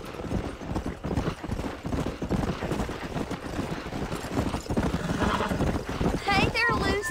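Horse hooves clip-clop at a steady walking pace in Red Dead Redemption, loud and continuous under talking voices, with a short whinny-like sound near the end.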